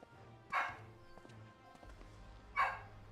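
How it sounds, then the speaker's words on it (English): A dog barks twice in the background, a couple of seconds apart, moderately loud over a quiet indoor room with low hum. "Apologies for the dog, by the way."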